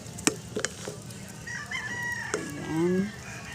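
A rooster crows in a long, rising-and-falling call, with a few sharp clucks and taps before it, fairly close and clear, beside a cooking setting.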